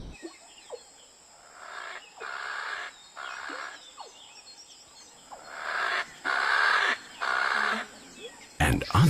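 A francolin calls in a series of harsh, raspy bursts, loud and repeated at a steady rhythm with short gaps, ending in a sudden louder crackle.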